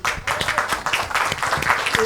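An audience at a cooperative business meeting applauds the president, brisk overlapping hand claps from a modest crowd, close and steady throughout.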